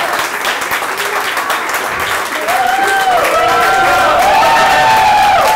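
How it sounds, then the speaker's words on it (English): A talk audience breaks into loud, sustained applause with some cheering, many hands clapping close by while voices rise and call out over the clapping in the second half. "Have a huge round of applause for Norah."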